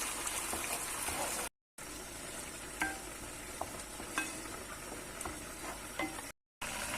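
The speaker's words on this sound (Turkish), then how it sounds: "Ondan sonra domates rendeme ekleyeceğim. O şekilde birkaç dakika daha kavuracağım." Tomato paste and grated tomato sauté in a pan while a spoon stirs them, giving a steady close sizzle with occasional scraping taps, and two brief drops to silence partway through.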